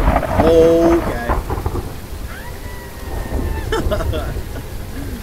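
Thunder and heavy rain in the horror video game Phasmophobia: a deep rolling rumble over continuous rainfall, with a brief spoken word and some faint whistling tones mixed in.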